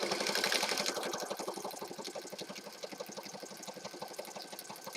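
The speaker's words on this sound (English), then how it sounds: "And we're just sewing here." Sewing machine stitching lace, a rapid, even run of needle taps and motor whir, quiet and close, continuing steadily throughout without talk.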